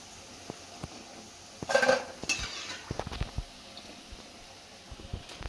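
Onion bondas frying in oil as they are turned in the pan with a metal utensil, giving a few clinks and scrapes over a faint steady sizzle, with no talking.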